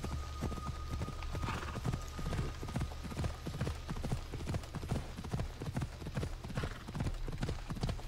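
A horse gallops in the video game Assassin's Creed Odyssey, its hooves striking in a steady, fast rhythm of clip-clop beats that stays close and fairly loud throughout, with faint background ambience.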